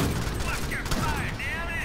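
Dense continuous gunfire in the Alien Swarm video game, a steady rattling barrage with whining tones over it, under voices.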